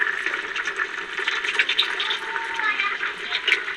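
Hot water is poured into a pan of spicy peanut-paste vegetable curry in a North Karnataka kitchen, a steady, moderately quiet splashing pour that runs continuously throughout.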